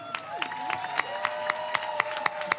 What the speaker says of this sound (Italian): Facciamole sentire il nostro applauso.